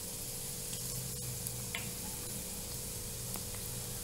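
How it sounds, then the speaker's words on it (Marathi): Garlic sizzles in hot oil for a Manchurian sauce, a steady soft frying hiss with faint stirring ticks, quiet and continuous. "तेल गरम झालंय, आपण लसूण घालून घेणार आहे."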